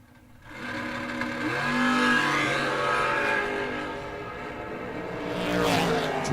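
A 1958 Corvette roadster drag car at a drag strip, its engine revving loudly and close, rising in pitch and holding a harsh buzzing tone, with a second surge at the end.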